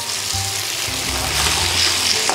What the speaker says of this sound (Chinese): 放一点酱油。